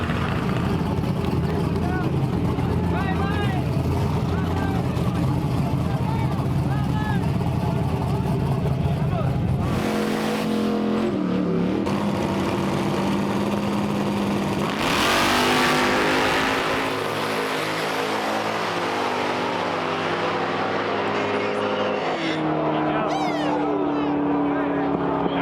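A drag race car's engine roars loudly at full throttle, then cuts and revs again through a series of sharp gear changes, a raw, sustained mechanical howl close to the microphone.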